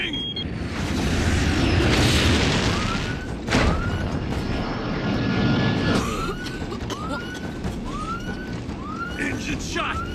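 A damaged aircraft engine on a sci-fi craft going down roars loudly, with a sharp boom midway and a run of short descending whines over the rumble.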